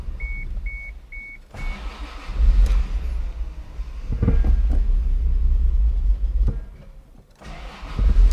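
A Toyota Supra on a garage lift cranks over and catches, settling into a steady, loud idle rumble with a few revs, after a short series of warning beeps.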